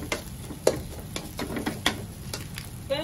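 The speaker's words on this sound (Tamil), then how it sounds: "காய்கறி வெண்ணெய் எல்லாத்தையும் மிக்ஸ் பண்ணிட்டு ரைஸோட" Vegetables and butter are stirred into rice in a hot pan for village-style fried rice, with a quick run of close scraping and tapping strokes over a constant soft sizzle.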